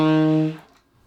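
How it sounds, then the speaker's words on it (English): A sustained two-note tritone chord, the 3 and flat 7, rings out briefly, then fades away into near silence. "If you said it was a tritone"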